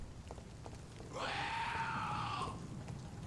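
In the video game Vampyr, a single long scream cuts in after a quiet moment, holds for over a second, then stops. It sounds fairly close against a faint background hiss like rain.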